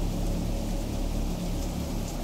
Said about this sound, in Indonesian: hujan juga belum menunjukkan tanda-tanda akan berhenti